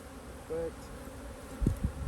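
Honeybees buzzing during a hive inspection: a brief, close insect drone rises and fades, followed by a couple of low thumps from handling the hive.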